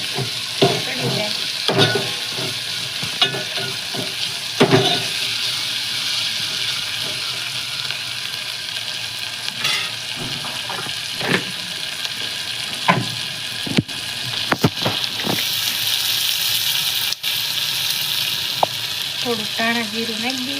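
Tomatoes and masala sizzling and being stirred in a pan for Gujarati-style batata poha, a steady frying hiss with scraping spoon strokes, under a voice talking intermittently.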